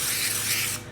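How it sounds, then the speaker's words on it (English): A can of cooking spray hissing onto a pie pan in a home kitchen, one short close burst that stops abruptly. "now I'm going to spray"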